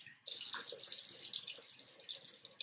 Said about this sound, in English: So I'm just going to rinse my face.